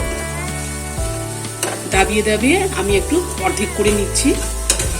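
Peas and carrots stirred and frying in a wok, giving a steady loud sizzle broken by repeated scraping strokes of a spatula, with a person talking over it.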